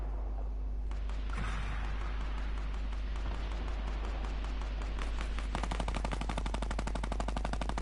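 Rapid automatic gunfire in the video game Fortnite, a dense steady rattle of shots that grows sharper and more distinct toward the end, continuous over a background din.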